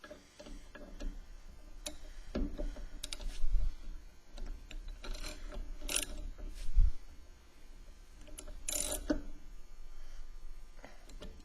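A torque wrench tightens a quarter-inch bolt to 5 foot-pounds, giving a steady run of close, light ratcheting ticks with a few louder clunks, and no talking.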